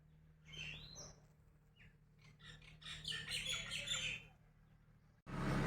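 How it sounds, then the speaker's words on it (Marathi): Several birds chirp and squawk in a lively chorus in rainy weather, moderately close, with a sudden loud rustle at the very end. "पक्ष्यांचे लय किलकिलट चालू आहे"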